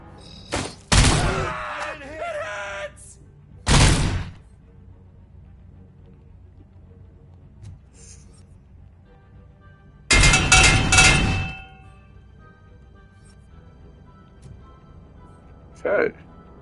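Heavy gunfire from a RoboCop: Rogue City shootout, arriving in a few loud, abrupt bursts separated by quieter stretches, with a short final burst near the end.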